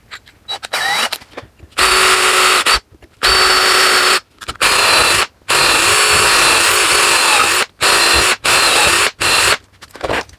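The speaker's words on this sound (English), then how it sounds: "So, it's got a steel wedge in it. Let me get my nifty difty drill and we'll have at this." A power drill works on the steel wedge of a splitting maul being restored. It runs in about eight loud, close bursts of whining, separated by brief silent pauses.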